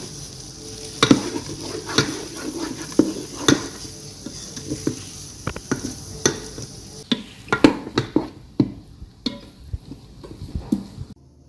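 A spoon stirs cauliflower into melted cheese in a pan, scraping and clinking against the metal in irregular strokes over a soft sizzle, close and moderately loud.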